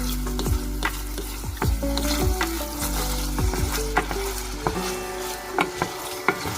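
Vegetables fry in a pan with soy sauce and sesame oil, a steady close sizzle broken by repeated scrapes and knocks of stirring at an irregular beat.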